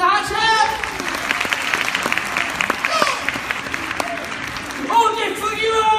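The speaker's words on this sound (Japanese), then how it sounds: "大きな拍手" Audience applause at a Universal Studios Japan monster show, a lively stream of clapping with sharp individual claps, while an amplified announcer's voice talks over it at the start and again near the end.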